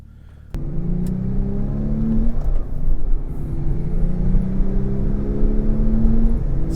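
Porsche 997 Turbo at speed on a race track with stability control off, engine note climbing steadily through the gears, loud and close with rising harmonic sweeps and no talking.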